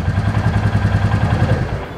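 A Royal Enfield Classic 350 motorcycle engine runs close by with a loud, steady, rhythmic thump of the single cylinder, no talking.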